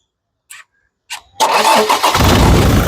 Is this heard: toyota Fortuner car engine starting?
yes